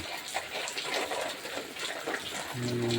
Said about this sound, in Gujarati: વરસાદ ચાલુ થઈ ગયો છે કચ્છમાં